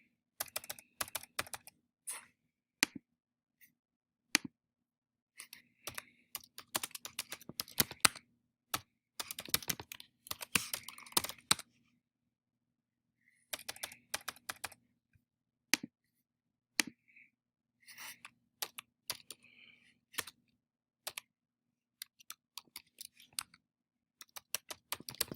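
Keys clatter on a computer keyboard while entering contacts into an iOS app, in close, crisp bursts of typing separated by short pauses, with no voices.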